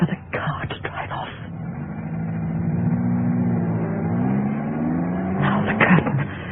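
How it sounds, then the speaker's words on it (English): Car engine starting and pulling away as a radio drama sound effect, a steady mid-pitched motor hum rising in pitch as it accelerates, with brief rattling noises at the start and end. "Wait for the car to drive off."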